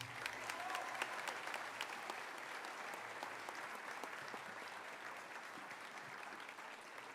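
Continuous crowd applause at Fitch High School's underclassmen awards ceremony, an even wash of many hands clapping at moderate, distant-sounding volume.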